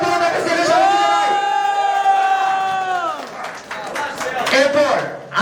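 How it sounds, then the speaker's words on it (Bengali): A crowd cheers and applauds as an arm wrestler is introduced onstage at a panja arm wrestling match, with a loud voice calling over the noise and rising shouts throughout. "প্লিজ সবাই করতালি বলুন ওনাকে সেলিব্রেশন জানাই"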